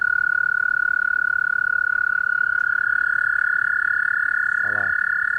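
Frog croaking: a steady, loud, high-pitched continuous call held throughout, with a brief low pulsing croak near the end and no talk.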